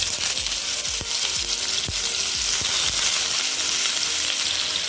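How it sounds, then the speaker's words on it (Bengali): Thinly sliced onions fry in hot refined oil in a wok, making a loud, constant sizzle with rhythmic low thumps of stirring roughly every half second. "এবার দিয়ে দেব পাতলা পাতলা করে কুচনো পেঁয়াজ।"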